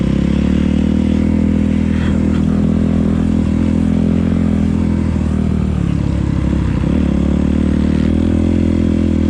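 Kawasaki KLX140 motocross bike rolling along in second gear, a loud, steady engine drone held close throughout with constant rumble and faint clatter, no talk.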